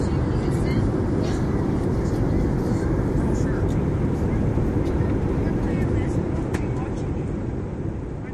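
Steady, dense cabin roar of an Airbus A321 passenger jet in flight, a constant low rumble that fills the whole stretch evenly, heard close with no talk over it.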